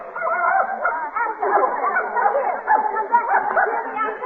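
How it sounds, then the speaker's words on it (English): A small dog barks and yaps in a band-limited old-time radio drama production of The Thin Man (the dog Asta), with busy, continuous yapping filling the whole stretch. "Madam, you can't bring that dog in here."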